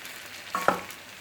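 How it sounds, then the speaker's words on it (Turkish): Red peppers for pickle cooking in a pot, a soft bubbling sizzle with a couple of brief stirring knocks in the middle of the short stretch. "biberimiz kaynamaya başladı"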